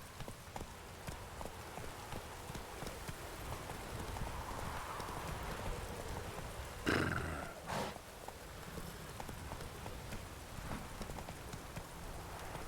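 Roach, the horse in The Witcher Wild Hunt, gallops with steady, rapid clip-clop hoofbeats over a bed of rain-like ambience, with a louder burst around the middle and a brief whinny-like sound.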